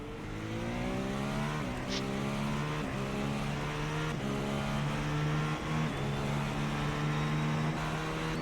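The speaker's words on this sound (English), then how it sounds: "But the V8 from the Caddy just sounds so good" A Cadillac V8 race car screams around Suzuka in iRacing, its engine a loud, sustained howl with rising pitch sweeps broken by quick upshifts, heard steadily and alone throughout.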